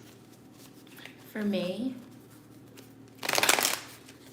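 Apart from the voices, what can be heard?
shuffling tarot cards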